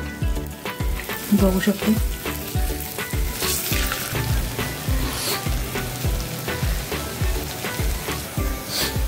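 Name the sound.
urad dal bhaji frying in oil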